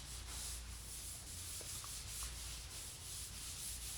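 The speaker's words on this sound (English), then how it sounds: "So it's easy when you're sanding." Drywall compound is sanded by hand with a steady rubbing, scraping stroke, faint and continuous for a few seconds, with no talk.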